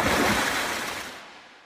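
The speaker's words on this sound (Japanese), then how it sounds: "ピノッキオは縄から逃れ再び海に飛び込みました。 スイスイとイルカのように泳ぎました。" Sea waves wash and surge as a wooden puppet swims through open water in a radio drama adaptation of a classic tale; a broad, rushing roar fills the short clip, loud at first and then fading away, with no voices.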